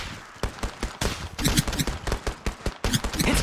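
Rapid automatic gunfire in the mobile video game Apex Legends Mobile, a dense, loud, fast string of shots over game noise, with no talk.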